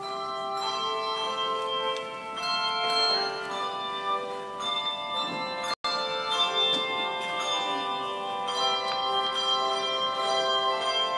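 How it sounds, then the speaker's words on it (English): A church bell choir plays music, with sustained, ringing bell tones layered in overlapping chords that swell and fade, moderately quiet and without speech. "we enjoy some special music from our bell choir"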